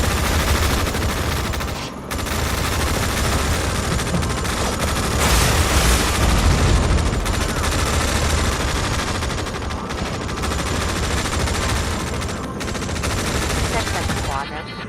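Gunfire in the EndWar video game rattles in continuous bursts of machine-gun and rifle shots, loud and dense, with brief gaps and radio-style voices talking over the battle.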